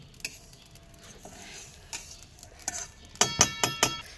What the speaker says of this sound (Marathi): इथं तीळ आणि खसखस भाजून झाली.